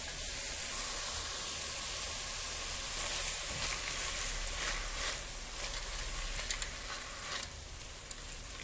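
Tomatoes and carrots cooking in a pan give off a soft, steady sizzle with a faint hiss throughout, quiet and close, with no talking.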